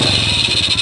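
A motorcycle that stalls on its own while riding idles steadily up close, with a rough, rattling low rumble and a constant whine above it.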